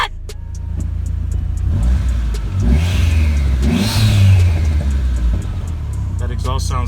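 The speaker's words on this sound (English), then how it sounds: "That exhaust sounds good, but that exhaust is gonna have to go." A Dodge SRT4 at its first start-up after time off the road, the engine revving loudly through an aftermarket exhaust in rising and falling surges, with people talking over it.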